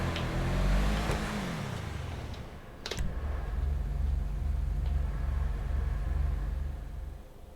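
Car driving off and accelerating in GTA Online, an engine rising from a low rumble into a steady drone with a few clicks, sustained to the end, no speech.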